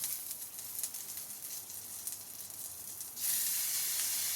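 Beans and carrots frying with green chillies in a pan give off a steady sizzling hiss that jumps sharply louder partway through and then holds a bright, constant crackle.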